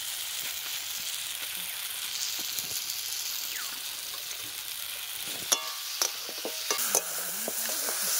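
Giant river prawns, freshly caught from a pond, sizzle in spice masala with bay leaves for malai curry while a utensil stirs them, a steady close frying hiss punctuated by scraping and clinking.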